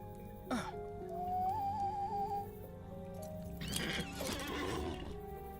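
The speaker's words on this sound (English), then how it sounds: "You'd make me mount my horse and then dismount me immediately?" A horse in a video game gives a long whinny over steady background game sounds, then a second rougher burst of neighing and snorting follows a few seconds later, with no talking.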